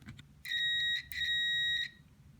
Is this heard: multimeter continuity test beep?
yes